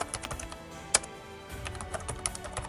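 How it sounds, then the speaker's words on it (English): Steady, rapid clicking of keys as someone types on a laptop keyboard at home, with light irregular taps and an occasional heavier keystroke, close and alone. "At home, Adaeze sat with her laptop, typing out her journal entries."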